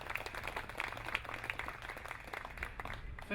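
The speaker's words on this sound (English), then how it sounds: "yes, please, round of applause" Audience applause fills a talk on climate crisis and the arts, a steady dense wash of many hands clapping that stays loud throughout with no voices on top.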